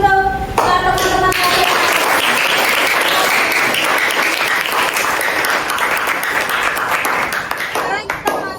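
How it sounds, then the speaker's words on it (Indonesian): A classroom of students applauding their classmates, dense loud clapping sustained for several seconds at close range, with a voice heard at the start. "beri aplaus untuk teman-teman"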